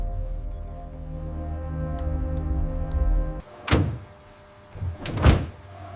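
A Ford Everest car door shuts with a solid thunk on a factory assembly line, followed moments later by a second sharper closing thud, after steady machinery hum.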